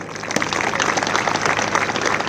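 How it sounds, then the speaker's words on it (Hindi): Audience applause at an Agniveer passing out parade, a dense, steady wash of clapping from a crowd, fairly loud and sustained for a couple of seconds. "कृपया तालियों में कमी ना करें।"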